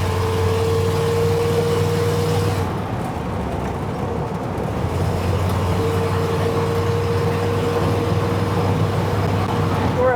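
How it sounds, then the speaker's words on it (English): A car engine fitted with an Edelbrock VRS-4150 650 CFM carburetor runs steadily and loudly close by, its droning hum easing briefly before building again under light throttle. "Let's roll into the throttle, see what happens."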